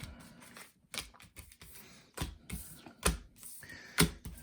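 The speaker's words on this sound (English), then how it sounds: "give these guys a quick shuffle" Crisp bursts of riffling paper cards, several quick shuffles with short pauses between them, close and fairly quiet.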